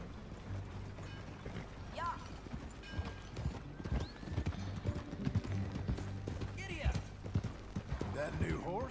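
Horse hooves clip-clop along in Red Dead Redemption 2 amid a busy mix of game sound, music and voices, with an occasional whinny.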